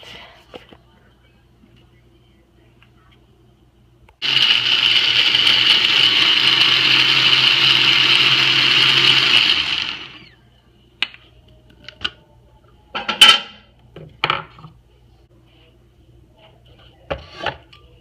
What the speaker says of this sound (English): And then I'm going to blend it.